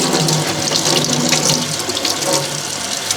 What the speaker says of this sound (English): you need to just give them a good wash. So I'll do that under cold water